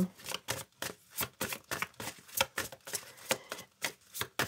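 Tarot cards shuffled close up in quick rhythmic bursts, a steady run of soft papery riffles and slaps repeating about three times a second, faint and alone without any talking.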